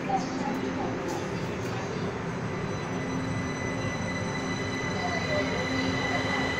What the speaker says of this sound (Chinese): 内部的彩绘捷运列车驶离，